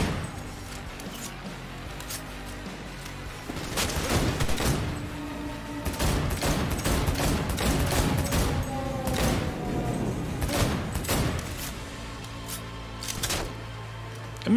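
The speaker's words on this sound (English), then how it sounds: "Who's shooting at me now?" Repeated gunfire from a Cyberpunk 2077 firefight, sharp shots clustered in bursts through the middle of the clip over a steady game ambience, loud and close.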